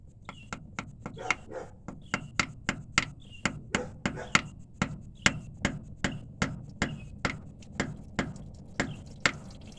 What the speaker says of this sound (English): Looks like we're gonna have to take the hammer and tap it just a little bit more.